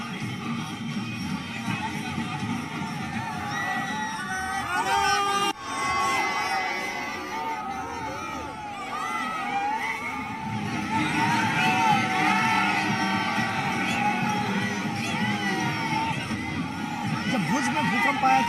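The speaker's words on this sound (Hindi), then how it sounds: "एक बड़ी भीड़ जुट गई है प्रधानमंत्री का स्वागत करने के लिए भुज में" A large crowd cheers at Prime Minister Modi's street roadshow in Bhuj, a continuous roar of voices with whoops and shouts, and a voice talks over it throughout.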